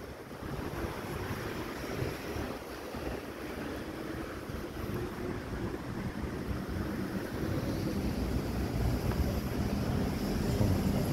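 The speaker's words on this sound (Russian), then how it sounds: "Все, ветер поднимается." Wind rising in a central city park in Sumgayit in December gusts steadily against the microphone as a dense, rumbling roar. It grows slightly stronger toward the end, with no voices.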